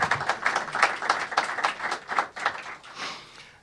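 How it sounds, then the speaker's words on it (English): Audience applause at an AltCar Oakland 2018 session, a dense, steady wash of many hands clapping from a crowd in an indoor hall, fading near the end. "So if we can get a round of applause for our sponsors."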